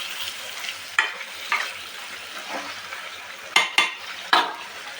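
Spice masala stirred into food in a frying pan, a soft sizzle underneath with several sharp scrapes and clinks of the spoon against the pan scattered through, close and fairly loud, with no talking.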